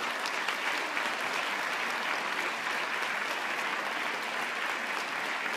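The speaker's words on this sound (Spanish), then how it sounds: "Y para recibir un gran aplauso." A large crowd at a political rally applauds in a dense, steady wash of clapping that holds level throughout, with no one speaking over it.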